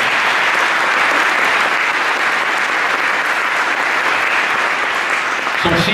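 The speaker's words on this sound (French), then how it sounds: "Vous pouvez l'applaudir encore une fois." Sustained audience applause at an awards ceremony for a secularism prize, dense and loud from start to finish, with no voices over it.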